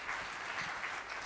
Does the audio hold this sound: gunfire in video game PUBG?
no